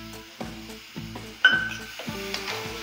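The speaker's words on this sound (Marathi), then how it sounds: "याच्यामध्ये आता आपण हे अंजीर जे आपण चिरून घेतलेले आहेत ते परतून घेणार आहोत" Chopped figs frying and being stirred in ghee, with a soft steady sizzle and repeated scraping strokes of a spoon against the pan, close and alone.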